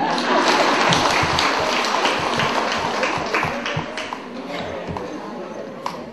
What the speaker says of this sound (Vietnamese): cho anh tràng pháo tay